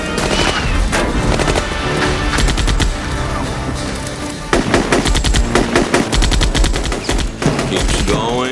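Rapid machine-gun fire in a comedic 1993 action film shootout, loud sustained bursts of automatic shots that continue almost without pause.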